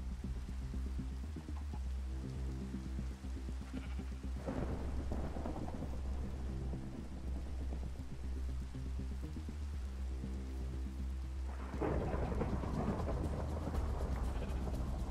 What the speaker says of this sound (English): Starting to storm real light.